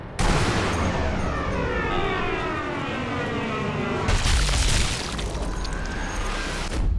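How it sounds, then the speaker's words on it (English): Gunfire from the Sniper Elite V2 video game, loud and continuous over a droning backdrop with a siren-like wail, with a sharper burst of shots about two-thirds of the way through. "firing in very short, very controlled bursts"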